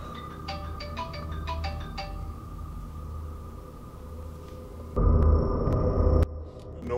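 A phone rings with a quick series of electronic trills over a steady hum, followed by a louder burst of noise and tones.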